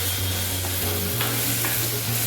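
Eggplant pieces sautéing in a pan with rock salt produce a steady, dense sizzle close by, layered over a low constant hum, with no voices.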